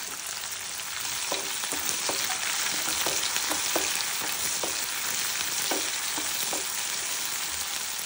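Onions frying in a pan for lemon rice, a dense, loud continuous sizzle with regular stirring knocks of the spatula throughout, no talking.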